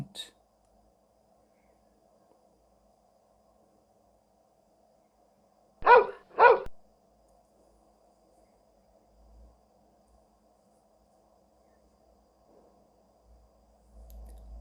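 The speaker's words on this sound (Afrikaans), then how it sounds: "hond" A dog gives two quick, sharp barks in a row, fairly close, in the middle of an otherwise near-silent stretch with a faint steady background hum.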